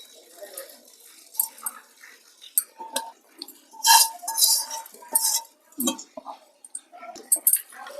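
Spoon scraping and clinking as mango pickle is mixed in a container, with irregular bursts of metallic clatter that rise and fall; a voice talks at times in between.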